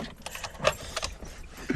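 Car keys jangle in short metallic bursts, alone and fairly close, in a vehicle during a snowstorm outing.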